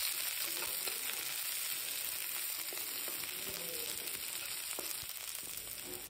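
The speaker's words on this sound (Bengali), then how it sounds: "এখন আমি দিয়ে দিব রসুন কুচি। তো দিয়ে কিন্তু আমি হালকা ভেজে নেব।" Chopped garlic frying in oil with green chilli and onion, a steady close sizzle running throughout with scattered light pops and scrapes.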